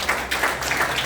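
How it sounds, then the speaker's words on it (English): Brief burst of applause for a panel speaker at an engineering panel discussion, a dense, steady patter of many hands clapping at once. "Big round of applause for him."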